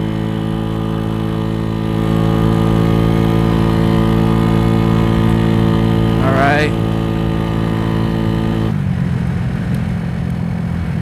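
Venom X18 minibike engine fitted with 1.5k clutch springs, idling loudly up close, then rising in a quick rev before dropping back to a rougher lower idle.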